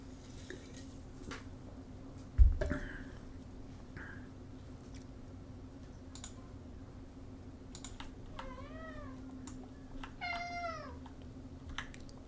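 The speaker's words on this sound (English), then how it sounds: "The cat needs to go out." A house cat meows to be let outside, giving several short rising-and-falling calls late in the clip, amid computer keyboard typing, a sharp knock, and a steady background hum.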